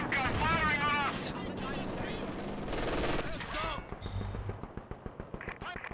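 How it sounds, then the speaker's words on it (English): Anti-tank gun fire in the video game Company of Heroes 2, with sharp cannon reports and rattling battle noise under in-game unit voice lines, then a dense run of rapid impacts. "Anti-tanker firing on us!"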